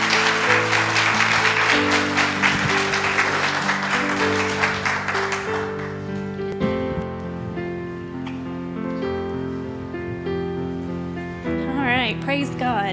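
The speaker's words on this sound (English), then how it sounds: "I'll give her a hand clap of encouragement" A room full of people at a church gathering clapping, loud and dense at first, then tapering off as music and voices continue underneath.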